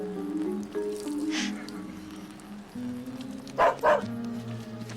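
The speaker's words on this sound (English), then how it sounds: "If that dog's going to be here, it has to be tied up at all times" A dog barks at a family camp-out, a couple of short yips early, then two sharp, close barks in quick succession over a quiet background.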